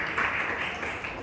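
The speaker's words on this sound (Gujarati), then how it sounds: "આપણે એમને તાળીઓથી વધાવીએ" A Gujarati rationalist convention audience applauds a donor, a steady broadband wash of clapping held for a moment throughout.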